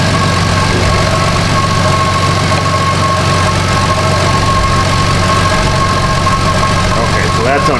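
Steady loud idle of a 2005 Chevrolet Equinox 3.4 engine running rich, a continuous close hum with a faint ticking texture and no change in pitch throughout.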